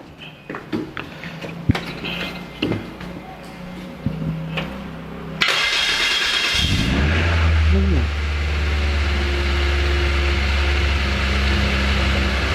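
A large car engine in a school automotive workshop starts up and settles into a loud, steady roaring drone, like a big motorcycle, preceded by clicks and mechanical rattling, with brief voices nearby.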